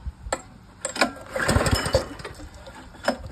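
A Kyoritsu pesticide sprayer pump with a ceramic piston is started and tested, giving a few sharp clicks and clanks, then a rough mechanical burst of engine noise, then more intermittent clatter.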